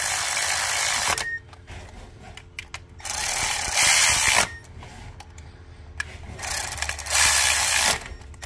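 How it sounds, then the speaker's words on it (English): A coil pack is tightened on the engine of a 2015–2021 Kia Sorento or Sedona during a spark plug change, with bursts of loud ratcheting alternating with quieter pauses and faint mechanical clicks, no speech. "So for this one, you just have to tighten the coil pack."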